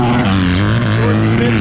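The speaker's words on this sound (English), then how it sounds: "There's Ferris, the Spaniard, testing the rev limiter." Motocross bike engine bouncing off the rev limiter at a pro motocross press day, a loud sustained harmonic buzz held steady with slight stuttering pulses throughout, close by with commentary over it.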